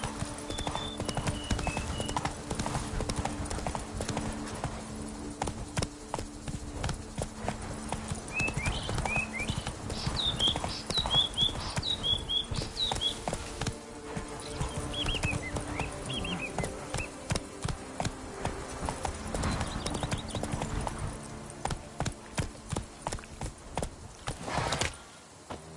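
Horse hooves clip-clop steadily through the open world of the video game The Witcher 3: Wild Hunt Remastered, a continuous rhythmic gait with a few brief whinnies and bird-like chirps over a constant ambient bed.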